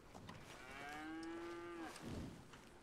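A single cow moos in Red Dead Redemption 2, one long, drawn-out low call of about a second, fairly faint, with quiet ambient noise around it.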